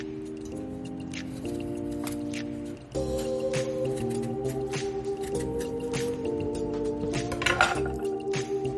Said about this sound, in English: Chop apple.